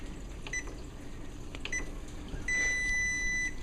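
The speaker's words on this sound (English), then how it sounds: "I'm just going to stop the timer here" Short electronic beeps from a timer sound over steady background hum: a brief chirp, then a longer held tone of about a second that stops abruptly when the timer is switched off.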